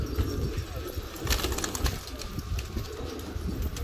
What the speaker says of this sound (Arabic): حمامات حلوه يا اخوان